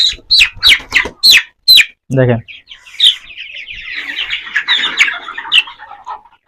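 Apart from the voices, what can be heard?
chickens being caught before fowl pox vaccination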